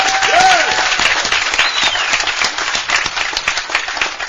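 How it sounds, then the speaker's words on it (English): Steady, dense applause from a conference audience fills the hall, many hands clapping together at an even level throughout with no pause. "this committee deserves a tremendous round of applause from us"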